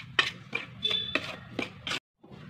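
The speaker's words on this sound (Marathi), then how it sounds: "आता हे सर्व एकत्र चांगलं मिक्स करून घेऊ।" A spoon scrapes and clinks in a bowl, mixing gram flour, rice flour and semolina with spices in a series of quick, close strokes, about six taps before a brief pause.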